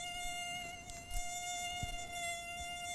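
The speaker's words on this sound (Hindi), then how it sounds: "ये तो है मच्छरों की आवाज़" Steady whine of several mosquitoes buzzing close by, a continuous high drone with layered harmonic tones and slight waver, with no voices.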